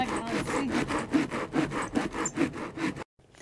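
A large hand saw cuts firewood in steady back-and-forth strokes, about eight rhythmic rasping passes close up before stopping abruptly.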